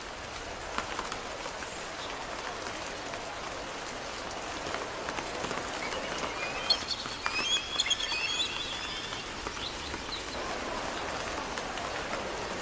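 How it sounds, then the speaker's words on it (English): Steady rain falls in the video game Wuthering Waves, a dense continuous hiss of drops on the ground that holds at an even level throughout, with faint bird calls briefly rising above it partway through. "The rain is passing."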